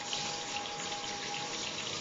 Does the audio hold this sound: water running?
yes